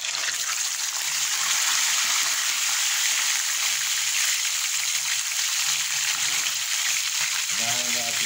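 A single fish fries in a hot pan, a steady loud sizzle and crackle continuing unbroken, with faint voices in the background.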